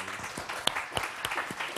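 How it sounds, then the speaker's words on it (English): Applause from an audience at an evening talk, greeting the next speaker; scattered individual claps stand out over a moderate, continuous patter at middling distance. "Give a big applause to Raees."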